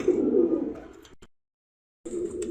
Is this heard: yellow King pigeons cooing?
yes